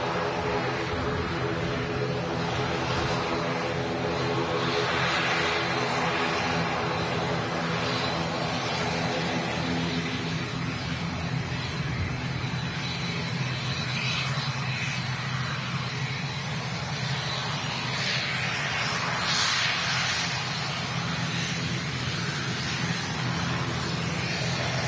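Aircraft at Manchester Airport produce a steady, broad engine roar that holds at the same level throughout, distant but continuous, with no clear breaks.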